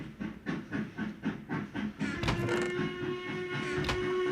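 A modded Christmas train, the Santa Express, passes in Minecraft with a rhythmic chugging pulse that builds into a steady hiss and rumble, a sustained whistle-like tone running through the second half.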